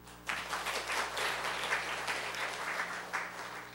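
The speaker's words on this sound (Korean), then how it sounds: "박수 한번 쳐줘." A church congregation applauding steadily for several seconds, a dense, continuous patter of clapping heard from nearby.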